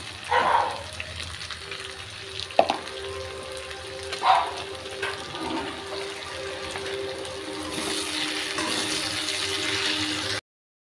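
Ginger garlic paste fries in a pan with a steady, close sizzle, punctuated by occasional stirring scrapes and a brighter, hissier burst toward the end.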